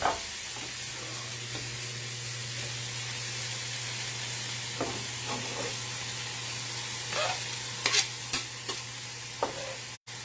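Garlic sautés in a pan with mushrooms and shallots, a soft continuous sizzle under a low steady hum, broken by a few light utensil taps toward the end.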